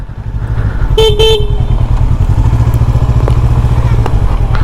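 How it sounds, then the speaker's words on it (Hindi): Two short, mellow horn toots from a Honda CB500F motorcycle sound over a steady, loud idling engine rumble. "इसका हॉर्न चेंज करना पड़ेगा, एकदम ही मेलो हॉर्न है।"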